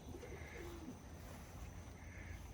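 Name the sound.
racing pigeons in stock loft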